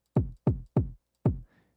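A punchy electronic kick drum sample in Ableton hits four times in a steady four-on-the-floor pattern, each thump deep and short with a quick decay, clean and alone.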